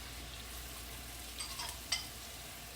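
Chives, thyme, basil and parsley sauté in a pan with a soft, steady sizzle and a couple of faint utensil scrapes, quiet and close.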